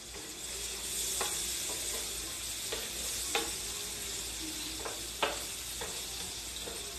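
Garlic frying in butter gives a steady, fairly quiet sizzle, with several sharp clicks of a utensil stirring against the pan.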